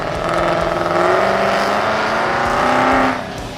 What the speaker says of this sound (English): who cares when you can listen to two V8s sending it at the same time